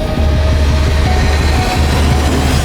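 A moving train rattles steadily along the rails in Kerala, a continuous loud clatter with rhythmic low wheel thumps and no talking over it.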